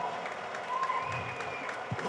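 An audience at a Tamil film's audio and trailer launch breaks into scattered applause, with claps rising briefly under a sustained tone and background voices in a large hall.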